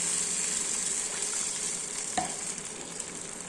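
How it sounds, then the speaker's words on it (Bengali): Fried raw mango pieces simmer in added water for a chutney, giving a steady, close hiss and bubble throughout with one brief knock midway. "আমগুলো আমার ভাজা হয়ে গেছে, এরপর আমি একটু জল দিয়ে দিলাম।"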